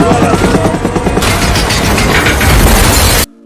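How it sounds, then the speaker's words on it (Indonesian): Helicopter with engine failure crashing and exploding in a disaster movie: a loud, dense roar of rumbling blasts, crashes and debris that cuts off abruptly into near silence. "helikopter yang diterbangkan Ray mengalami kerusakan pada mesin dan akhirnya meledak"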